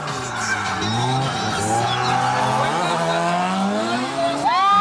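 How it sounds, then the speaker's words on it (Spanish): Tires squeal continuously as a drift car slides sideways through a corner at a competition, close and loud, with the screech rising and falling in pitch over the engine and commentators talking excitedly. "Y José, la primera curva. Tremendo ángulo."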